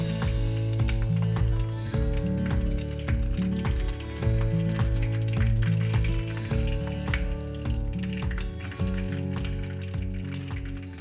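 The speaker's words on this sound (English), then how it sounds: "When frying the bean curd, the oil will splash a lot" Bean curd frying and splashing in a generous amount of hot oil for vegetarian pho, a steady crackling sizzle heard throughout under prominent rhythmic background music.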